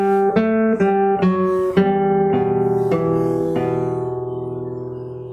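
A fingerstyle guitar plays a phrase of a piece, with plucked notes ringing over an open-string bass, struck in a steady rhythm and left to sustain at the end, close and clear with no voices.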